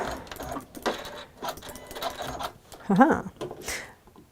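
A sewing machine runs in short bursts while stitching quilt fabric, with a voice talking over and between the stitching runs.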